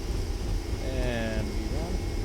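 A Boeing 767-300's engines spool up in X-Plane 11, a steady roar with a rising whine climbing briefly through the middle, under a voice.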